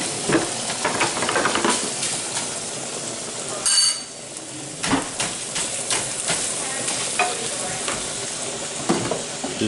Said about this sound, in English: Now ground beef, smash it like a madman with a spoon